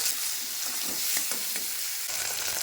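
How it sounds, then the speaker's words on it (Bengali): Onion, garlic, chopped tomato and green chillies fry together in a pan, giving a steady, close sizzle with faint stirring scrapes and no voices. "সব কিছু একসাথে একটু ভাজা ভাজা করে নিয়েছি"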